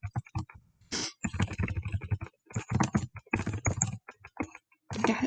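Computer keyboard typing in bursts of quick, close key clicks with short pauses between runs, fairly soft and mixed with talk.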